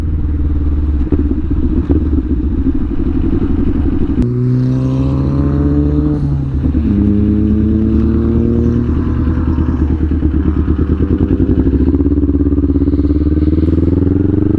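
A Kawasaki Ninja 400 ridden at full throttle, engine roaring loud and close, revs climbing through the gears with a brief shift dip, rising again under constant wind rush.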